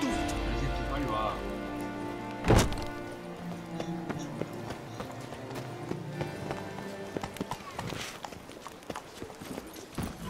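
Hoofbeats of a galloping horse named Roach in a video game, a quick rhythmic clip-clop running steadily through the scene amid game music and other ambient sounds, with a sharp loud hit partway through.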